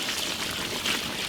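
A steady stream of water pours continuously into a cooking pot for biryani rice, a full rushing splash lasting a brief moment.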